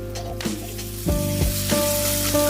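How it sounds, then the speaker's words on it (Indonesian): Spice paste with bay leaves sautés in a pan for beef-skin stew, giving a close sizzle with several clattering stir strokes of a spatula against the pan, no talking. "Aduk-aduk supaya tidak gosong bawahnya, kemudian tumis bumbu sampai matang dan tanak."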